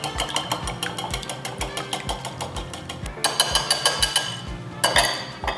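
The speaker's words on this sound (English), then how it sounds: "our eggs. And I'm just gonna whisk it." Eggs beaten with a whisk in a bowl make a rapid, even series of metallic clinks and taps, about three strikes per second, close and moderately loud with no talking.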